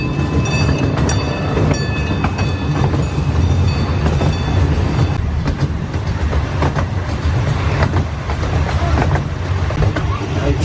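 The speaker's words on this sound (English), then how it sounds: "All right, train started moving." A small zoo train rolls along its rails through a wooded park, a continuous close rumble with rattling carriage and wheel clatter, steady throughout.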